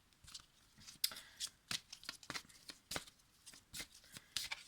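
Oracle cards handled and shuffled for a reading, a quick run of crisp papery flicks and riffles, close and soft, coming in uneven bursts with no talking.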